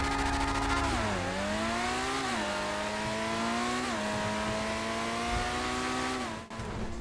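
A sports car engine in GTA 5 Online, the Autarch, drones steadily, its pitch dipping and climbing through gear changes, loud and continuous with a brief cut near the end.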